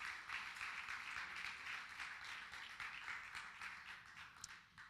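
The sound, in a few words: applause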